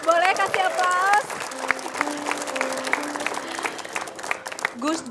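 A studio audience breaks into warm applause during a talk-show chat, a dense patter of many hands clapping together, with a voice speaking briefly before the clapping and again as it fades.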